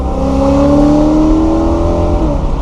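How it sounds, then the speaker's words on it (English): A Santorini Blue BMW E92 M3 engine blips sharply as it rev-matches on a downshift, a crisp, close, rising engine note that swells and then drops away near the end. "The rev matches on the downshift,"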